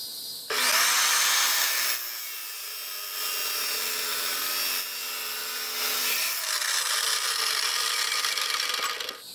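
A power saw cuts a metal piece in half while modifying a hay dolly, a loud, steady grinding whine lasting several seconds with shifts in pitch as the blade bites, no talking.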